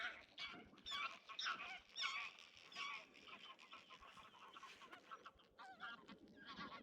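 Geese honk over and over in a busy, overlapping chorus of nasal calls, moderately close, with no one speaking.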